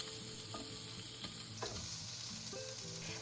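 Minced garlic being stir-fried with shrimp in a pan, a soft steady sizzle with a few clinking stirring strokes of a utensil against the pan, fairly quiet and close.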